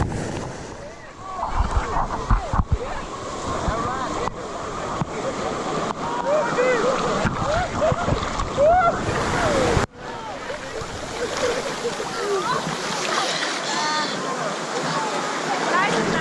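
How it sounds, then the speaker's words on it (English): High-tide ocean waves surge and wash ashore on Grand Cayman, a loud continuous roar of churning surf with strong wind buffeting the microphone, while a person talks over it. "the tides are really high. Look how this one's coming behind me."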